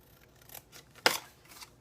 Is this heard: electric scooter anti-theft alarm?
no